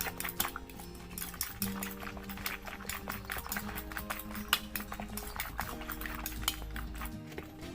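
Eggs are beaten with salt and seasoning in a bowl for a Thai omelette with sesbania flowers, giving a steady stream of quick clinking and scraping strokes against the bowl, fairly loud and continuous throughout.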